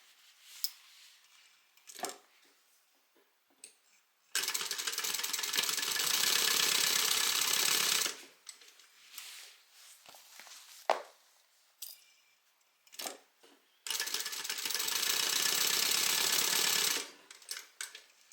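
Sewing machine stitching a bag lining in two sustained runs of steady, fairly loud whirring, each a few seconds long, with quiet handling clicks and rustles between them.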